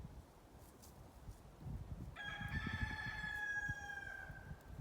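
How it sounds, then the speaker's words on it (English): A rooster crows on a farm, one long drawn-out cock-a-doodle-doo that starts partway through and rings out clearly over a faint outdoor background of rustling and low noise. "Good morning, Rooster."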